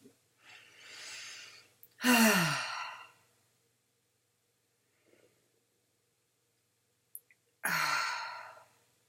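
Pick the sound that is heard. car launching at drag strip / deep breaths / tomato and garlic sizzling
deep breaths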